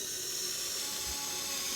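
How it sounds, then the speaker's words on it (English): A SKIL USB rechargeable screwdriver with a 3/32 bit drilling through a 2x4, a steady, high-pitched motor whine that holds continuously and loud. "we're gonna go ahead and drill a hole, see how long it takes to get through this 2x4."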